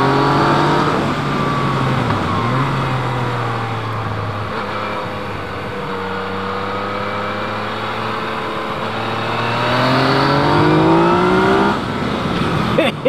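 A Yamaha MT-09 motorcycle pulls hard on the road, its engine note climbing through the gears in long rising sweeps, loud and close with wind rush around it.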